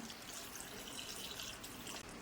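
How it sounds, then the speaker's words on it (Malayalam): Water poured into a pan of cucumber curry with turmeric and chilli powder, a faint, brief splashing trickle heard close by with no talking. "വെള്ളം ഒഴിച്ചു കൊടുക്കാം"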